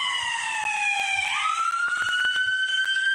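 A wailing warning siren at SpaceX's Starship launch site in Boca Chica, Texas rises and holds its pitch, loud and sustained, with faint clicks underneath and no talking.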